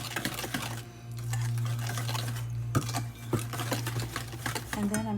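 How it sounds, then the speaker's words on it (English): Sugar being whisked in a mixing bowl for a marble banana cake, with quick scraping taps of the whisk against the bowl over a steady background hum. "And I'm actually going to whisk this"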